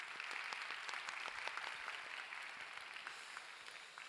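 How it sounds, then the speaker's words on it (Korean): A church congregation at a youth worship service claps for the broadcast team, a steady, even patter of many hands heard at a distance, fairly faint and fading slightly at the end. "우리 방송팀에게 사랑과 격려의 박수로 함께하겠습니다"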